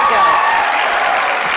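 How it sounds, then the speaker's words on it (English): An audience at a convention panel at Baltimore Comic Con claps in a brief, dense burst that fades slightly, with a faint voice underneath. "There's some better applause."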